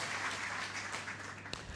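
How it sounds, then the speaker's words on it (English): Faint, distant audience applause at the unveiling of a commemorative Golden Jubilee EC$50 note, a soft wash of clapping lasting under two seconds. "Another round of applause for our governor, Dr. Timothy Antoine."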